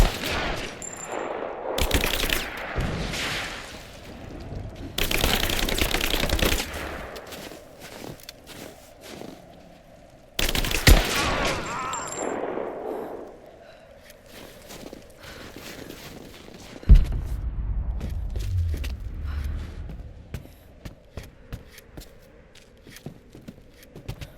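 Bursts of automatic gunfire in Rise of the Tomb Raider, played at a Soviet base, come in several loud volleys separated by quieter stretches with footsteps and movement.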